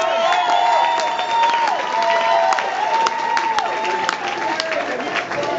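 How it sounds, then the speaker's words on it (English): An audience applauds for a musician at a live show. Scattered claps and cheers sit under ringing musical tones. "give him an extra round of applause"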